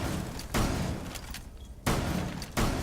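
Heavy gunfire in Rainbow Six Siege: a loud burst opens around half a second in, a second sharp blast comes near the two-second mark, and a third follows shortly after, each trailing into a noisy, booming decay with no talk.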